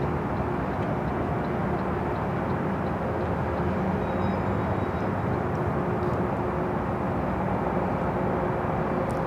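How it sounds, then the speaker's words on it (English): Delta Airlines Boeing 767-300ER heavy jet arriving at LAX, a steady, loud broadband engine roar that stays constant throughout, with no voices over it. "Next arrival is a heavy Delta Airlines flight 767, a 767-300ER coming in from JFK."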